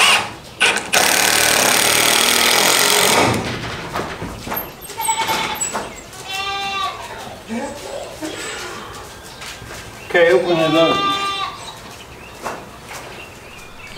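On a farm, a loud burst from a power drill driving screws is followed by several goats bleating close by, in separate wavering calls, while people talk briefly between them.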